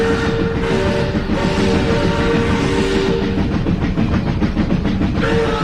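Train roaring out of a tunnel: a loud, constant heavy rumble with a sustained horn-like tone, then rhythmic wheel clatter near the end.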